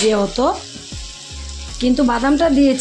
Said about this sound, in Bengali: তার জন্য আর একটু নাড়াচাড়া দিয়ে নেবো।